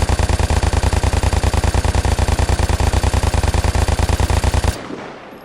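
A Vigor LMG in a video game firing one long, rapid, steady burst of loud automatic gunfire that stops abruptly near the end, leaving a brief fading tail.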